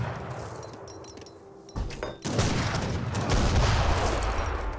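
Artillery and musket fire hits a fixed gun in Age of Empires 3: Definitive Edition, with scattered dull thuds, then a loud burst and a sustained, noisy roar of battle.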